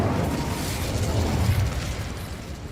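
Incendio fire spell cast in Hogwarts Legacy, a dense whooshing roar of flame bursting out loudly and sustained for a couple of seconds.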